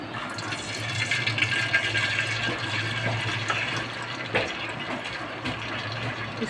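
One cup of cooking oil pours steadily into a pot for a chicken korma, giving a continuous liquid rush close up.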